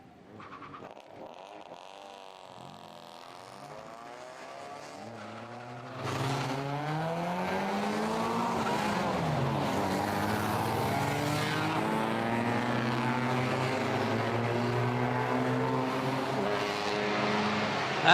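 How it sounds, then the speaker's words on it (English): A field of race cars at the DeWALT Grand Prix pulls away on the warm-up lap, engines rising from a distant rumble into a loud, sustained multi-car roar of overlapping revving tones. "the warm-up lap is underway for ABC Race 2"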